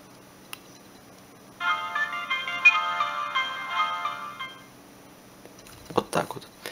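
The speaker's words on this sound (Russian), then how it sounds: "давайте теперь выключим телефон" A Siemens C65 mobile phone plays its short electronic power-off melody, a run of bright tones lasting about three seconds, followed by a few faint handling clicks.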